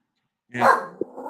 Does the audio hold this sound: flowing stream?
no